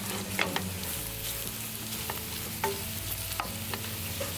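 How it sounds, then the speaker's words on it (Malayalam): Mushrooms frying in a pan beside a beef steak dinner, a continuous sizzle broken by repeated stirring scrapes and light utensil knocks, close and with no voices. "ഇനി നമുക്കിവിടെ മഷ്റൂം ഇങ്ങോട്ട് ഇടാവുന്നതാണ്."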